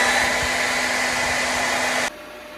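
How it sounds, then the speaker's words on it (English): A hair dryer blows steadily to dry fresh drywall mud on a wall repair, a loud, even whooshing hum that cuts off abruptly to a quieter background. "you can grab a hair dryer"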